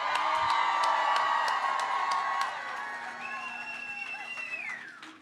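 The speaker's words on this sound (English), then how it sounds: "give yourselves a round of applause" An election-night crowd in Fort Worth cheers and applauds, with whoops and shouts over the clapping, loud at first and then thinning out.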